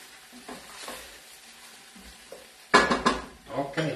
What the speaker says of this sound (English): Now, I saute the tomato a little bit.